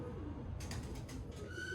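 Baby pigeons on rooftop pigeon perches coo softly a few times, low and muffled, with faint background noise.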